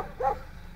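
A dog on a rooftop gives one short bark, moderately loud and brief, followed by quiet background.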